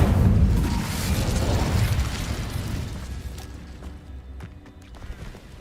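Incendio fire spell blast in the video game Hogwarts Legacy, a loud roaring whoosh of flame that fades over several seconds into scattered crackles and small pops.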